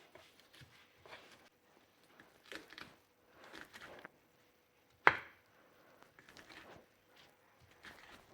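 Shrimp heads and legs are pounded with garlic in a mortar and pestle, heard as scattered soft scraping knocks with one sharp, loud strike midway, fairly close and without talk.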